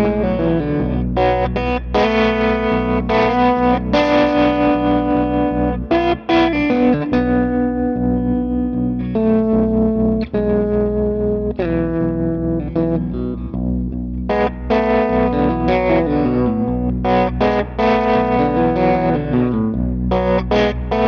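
A distorted electric guitar plays chords and riffs through an amp, the tone washed in reverb with a wavering, pulsing shimmer, loud and continuous.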